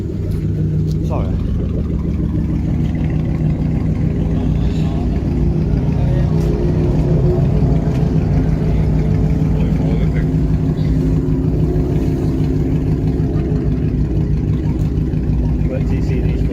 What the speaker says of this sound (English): Dan's starting his Mustang, he's just letting it warm up